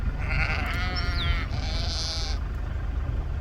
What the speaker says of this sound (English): Do we have a couple goats in there now?